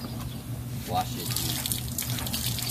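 Tap water runs steadily in a sink while a large aku fish is washed, with some splashing and a person speaking faintly.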